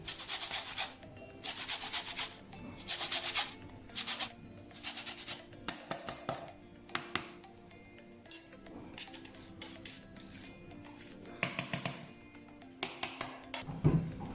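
A lemon rubbed against a grater for zest, giving repeated short scraping strokes in bursts, fairly quiet and close, with clinks of kitchen utensils between strokes and no talking.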